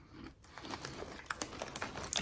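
Crisp crunching bites into Funyuns Steakhouse onion-flavored rings, a close series of irregular crackling crunches growing louder toward the end, with no talk over them.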